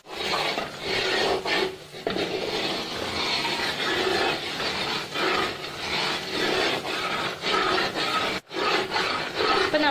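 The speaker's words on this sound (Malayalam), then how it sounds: "നന്നായിട്ട് ഇളക്കി കൊടുത്തോണ്ടിരിക്കണം" A spoon scraping and rubbing steadily through thick coconut flower lehyam as it cooks down in a pan, a continuous close scraping with short breaks.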